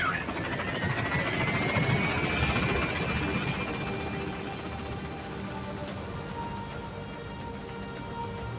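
A helicopter in the video game Metal Gear Solid V gains altitude, a loud steady rotor drone with a rising whine that fades a little toward the end, with game voice audio mixed in.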